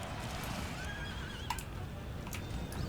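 In an Empire: Total War battle, a horse whinnies with a wavering call over a steady background rumble, joined by faint hoof clip-clops and another brief neigh.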